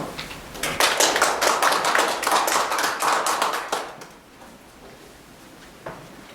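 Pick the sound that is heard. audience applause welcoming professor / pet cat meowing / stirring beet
audience applause welcoming professor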